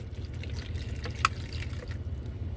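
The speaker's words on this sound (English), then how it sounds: "Add a little bit of water." A little water is poured into a cooking pan holding grease for rotini, cooked in a moving vehicle. There is a brief splashing trickle and a single drip over a low engine rumble.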